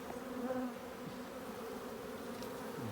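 Honey bees buzzing around a hive built into a flat roof, a continuous close hum with a few passing individual bees, fairly faint and with no talking.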